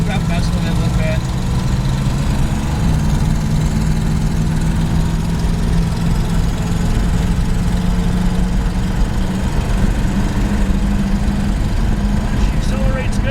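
1971 Plymouth Cuda engine droning steadily from inside the car during a night test drive, a loud continuous low rumble with no clear rise or fall, and people talking over it.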